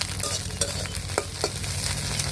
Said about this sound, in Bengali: আর এখন হচ্ছে যে ডিম ভাজতেছি।